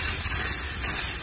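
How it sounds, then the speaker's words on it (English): Aerosol parts cleaner sprayed onto an engine area after an automatic transmission fluid change, a steady close hiss lasting just over a second on its own. "We'll do our final little spray with our parts cleaner."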